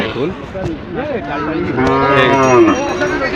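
A red native bull lows loudly at a Sylhet cattle market, a drawn-out moo rising and swelling near the microphone, with faint market voices beneath.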